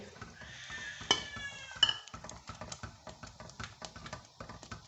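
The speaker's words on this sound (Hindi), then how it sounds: "ये गर्म हो गया, अब मैं इसमें सूजी डाल लूँगी।" Fine semolina goes into a hot pan for potato paratha dough, followed by a close series of rhythmic scraping and tapping of a spoon against the pan, with two sharper metallic clinks early on.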